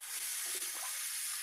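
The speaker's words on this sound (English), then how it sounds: "That was the sink, sorry." A household sink tap runs steadily with a hissing, high-pressure rush of water, heard close and continuous throughout.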